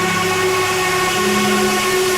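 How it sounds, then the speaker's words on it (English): Norfolk and Western Class A steam locomotive No. 1218 sounds a long, steady, loud whistle: a rich, sustained chord that holds unbroken over a constant rumbling background. "The most powerful steam locomotives to ever operate in the preservation era"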